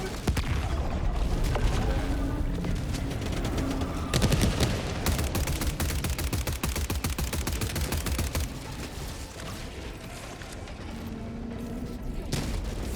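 Rapid automatic gunfire and explosions from the video game Helldivers 2 rattle loudly and almost continuously, dense bursts of shots with booms and mechanical clatter, easing slightly near the end.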